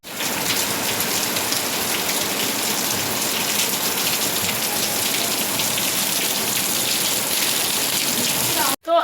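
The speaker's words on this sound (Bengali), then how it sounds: "আর এদিকে শুরু হয়েছে ঝমঝমিয়ে বৃষ্টি" Heavy pouring rain, a steady, dense hiss of drops drumming on surfaces that continues unchanged for several seconds close by, ending in a brief cut to near silence and a short burst of noise.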